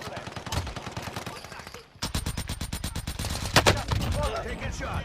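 Rapid bursts of automatic gunfire in a video game crack out close and loud, starting with a few scattered shots and then becoming a dense, evenly spaced stream of rounds over a steady background of game noise.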